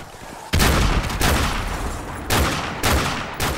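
AK-47 fire in Call of Duty: Modern Warfare Remastered, loud sustained bursts of rapid automatic gunfire in several runs with brief gaps between them.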